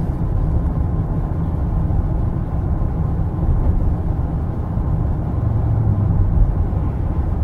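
Steady low road and engine drone inside the cabin of a 2015 Ford F-150 Platinum cruising at highway speed, an even, continuous hum with no talk.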